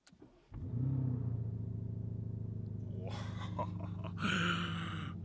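A 2024 Lamborghini Urus Performante engine with an Akrapovic exhaust, in Corsa mode, cranks and catches, settling into a deep, loud idle, then revs up twice with rising roars before dropping back to a throaty rumble.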